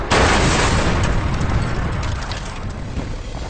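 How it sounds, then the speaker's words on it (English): A wounded German Focke-Wulf 190 fighter crashes into the ground in a World War II aerial combat, a loud close blast that rumbles and fades over a few seconds. "The wounded Fock Wolf hits the ground in a brilliant explosion."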